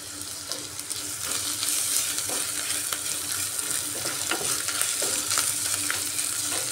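Chopped ginger and garlic sizzle and fry with browned onions in a pan, stirred steadily with a spoon. The hiss is continuous and close, with soft scraping strokes and no talk.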